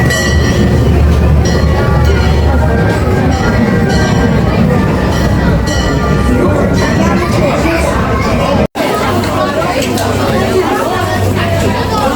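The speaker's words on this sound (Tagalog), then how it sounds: "When the train is moving, please remain seated." Amusement park train circling Hong Kong Disneyland, its steady rolling rumble continuous and close throughout, with crowd chatter and a recorded onboard announcement over it and one brief dropout near the end.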